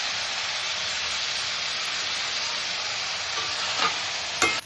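Chicken with lemon, salt and cashew paste frying in a pan, a steady loud sizzle throughout with a couple of brief stirring scrapes near the end.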